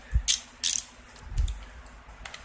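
A ratchet clicks in short bursts while driving 7mm bolts that hold a carburetor to its plastic mounting plate on a Murray lawnmower, with a few brisk ratcheting passes and light handling noise between them.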